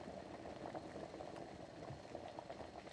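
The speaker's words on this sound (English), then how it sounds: "the sound design of like the tension with the water boiling is done very effectively" Water bubbles at a rolling boil in a tense film scene, a dense, continuous gurgling hiss heard close but quiet, with no voices.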